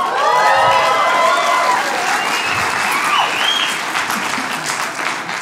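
Comedy club audience at a stand-up show bursts into loud, sustained applause with whistles and cheers, a dense clapping wash that holds steady for several seconds before easing slightly.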